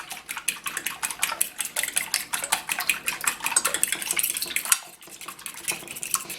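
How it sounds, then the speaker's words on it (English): A utensil beats seasoning and pepper together in a bowl, with rapid, steady clinking and scraping strokes that stay close and continuous with no talk. "I'm just going to beat that all together"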